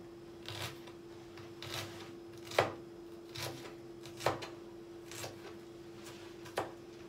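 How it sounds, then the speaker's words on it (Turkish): A knife chops onions finely on a board in quiet, evenly spaced strikes, about eight of them, over a low steady hum, with no talking. "Önce soğanlarımızı güzelce ince ince doğruyoruz."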